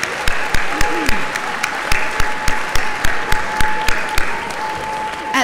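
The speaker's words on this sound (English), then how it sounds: "Can we please give one more round of applause for this year's Teacher of the Year?" A banquet crowd applauds this year's Teacher of the Year with sustained, even clapping that fills the hall, with sharp close claps punctuating the steady wash of applause.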